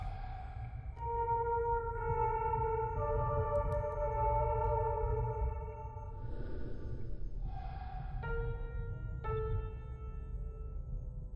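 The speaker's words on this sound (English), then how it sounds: "Play the piano by following the notes." A sustained, tonal piano melody from a rhythm section of the game Fatal Frame: Mask of the Lunar Eclipse, held notes entering every second or so over a steady low rumble; no voices.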